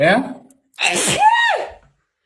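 During a sneezing fit on a live stream, a woman lets out one loud, close sneeze with a quick gasp and a sharp explosive release, just after a short spoken word.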